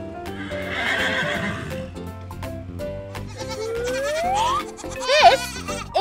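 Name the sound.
horse neighing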